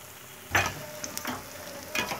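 Pakoras frying in hot oil, a steady close sizzle with a few louder splashy bursts as pieces are stirred or turned in the pan.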